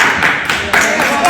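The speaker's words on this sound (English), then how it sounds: "That clap came like too early" Wedding guests clap during a speech, a burst of fairly close, loud applause that rises and dips in waves over a short stretch, mixed with the sound of a crowded room.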